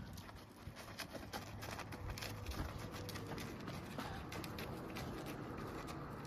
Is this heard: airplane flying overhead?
no